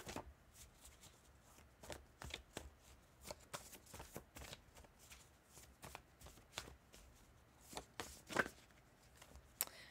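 Tarot cards shuffled by hand, a string of quick papery riffles and soft slaps coming in uneven bursts, close and fairly quiet, with no voices.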